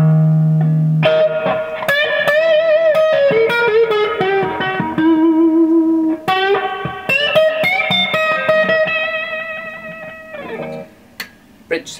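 Clean electric guitar played through the warm, rounded neck pickup of PAF-style humbuckers with Peter Green mod, melodic single notes and chords ringing with some reverb, alone with no talking.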